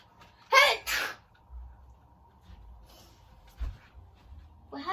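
A child sneezes close to the microphone, two sharp bursts in quick succession followed by quieter movement and a faint third sneeze-like burst at the end, in a quiet room.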